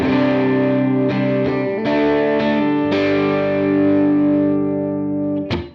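An electric guitar plays dry through a Line 6 HX Stomp with no reverb, in stereo. Several clean, ringing strummed chords sound one after another, each sustaining into the next before a final sharp pluck.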